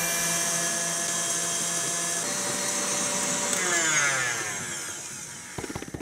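Eggs whisked in a mixing bowl with an electric mixer, a steady loud whirring drone that holds for several seconds, shifts pitch as it slows, then ends with a few clattering knocks.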